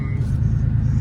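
A 6-speed Porsche 964 with a 3.8-litre engine gives a brief, steady low rumble that stays loud and close throughout.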